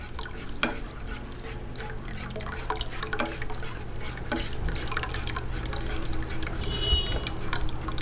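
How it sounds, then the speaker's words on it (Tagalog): Leche flan mixture for a biko flan is poured slowly into a pan, giving a close, continuous liquid trickle and dripping with light stirring scrapes throughout. "lalagay po natin unti-unti itong ating leche flan mixture. Ayan, dahan-dahan lang po yung paglalagay."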